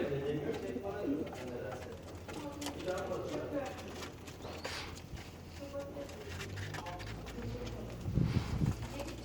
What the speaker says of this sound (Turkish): Kuşlarım onlar arkadaşlar.